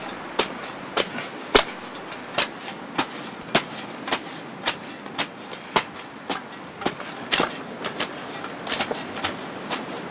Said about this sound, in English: Now I'm going to chop this soil up quite a bit